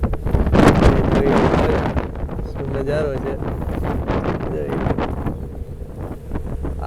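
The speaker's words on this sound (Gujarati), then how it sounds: "હવે પવન આવ્યો જબરદસ્ત" Strong wind gusting at a mountain ropeway, rumbling low and loud into the microphone for the first couple of seconds, then easing into a steady blustery roar under someone talking.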